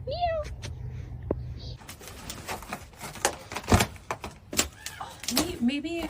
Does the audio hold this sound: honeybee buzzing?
no